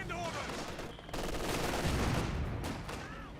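Gunfire and grenade blasts from the Company of Heroes 2 World War II strategy game, a dense, continuous clatter of small-arms fire with heavier thumps and bursts, loud and steady throughout, no voices.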